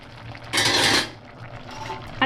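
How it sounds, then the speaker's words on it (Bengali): A lid is lifted off a pot of fried rice cooking on the stove, giving one short, bright clattering rush in the middle against a quiet, steady kitchen background. "দেখো বন্ধুরা এবার আমি একটুখানি ঢাকাটা উঠিয়ে দেখছি"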